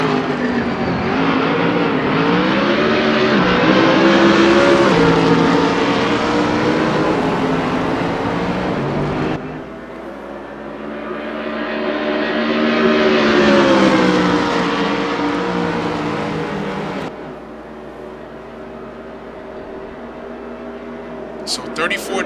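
GT race cars lapping Monza in a racing video game, engines droning and rising in pitch as they pass, with loud sweeps that swell and fade and gear changes between them, while a commentator talks over the action.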